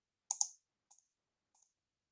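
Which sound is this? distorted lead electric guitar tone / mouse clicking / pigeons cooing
mouse clicking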